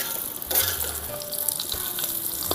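Catla fish sizzling steadily as it fries in hot oil over a wood-fired clay stove, a close, dense crackle with brief louder bursts of spattering.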